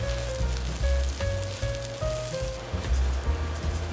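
Fried rice seasoned with white pepper sizzles and crackles as it is tossed and stirred in a hot wok, a steady close frying hiss with soft scraping and a faint tonal hum underneath.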